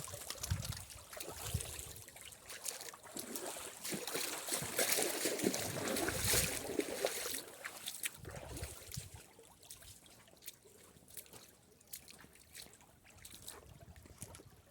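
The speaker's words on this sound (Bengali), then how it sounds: "আসলে এই ঝর্ণাটা ইন্ডিয়া থেকে আসছে।" A waterfall-fed stream flowing down from across the Indian border rushes and trickles over rocks in a continuous broad wash of water, swelling louder midway before easing back, with no talking.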